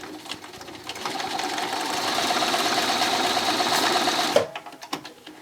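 A sewing machine stitches straight across a T-shirt sleeve to make a drawstring pouch. The motor runs in a steady, close, rapid mechanical whir for about three seconds, then stops abruptly, followed by a few handling clicks.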